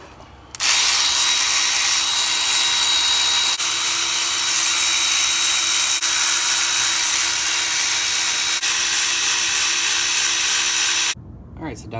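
Loud, steady power-tool whirring lasts about ten seconds without a break while bolts come out of the water pump assembly on a Ford F-150 3.5L EcoBoost engine block, then stops abruptly.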